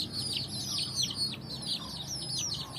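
Free-range village chickens cluck and chirp repeatedly at moderate distance, a steady busy flock chatter with no voices over it.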